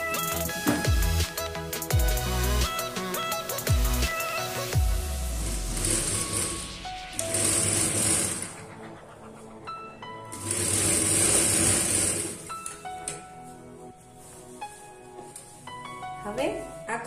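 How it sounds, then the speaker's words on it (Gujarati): A sewing machine stitches the side seam of a cloth salwar, its rattling hum running in bursts with pauses, under continuous talk. "આપણે આ સાઈડ સિલાઈ કરી લેવાની છે"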